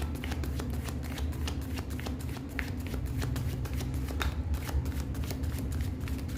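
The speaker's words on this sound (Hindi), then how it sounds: "पहले शफल करूँगी।" Tarot cards shuffled by hand in a steady run of crisp riffling taps and slides, close and continuous over a low background hum, with no talking.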